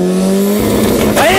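A 290 hp Subaru Legacy 2.0L EJ20X and a 1.3L Toyota Starlet running 1.2 bar of boost launch side by side in a drag race, with loud rising engine roars and a sharp tire squeal.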